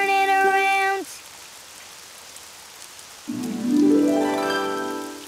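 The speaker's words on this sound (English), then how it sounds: "It's raining outside." Outdoor rain falls as a steady hiss beneath sustained tonal voices or music that start, drop out briefly, then return louder and gliding upward.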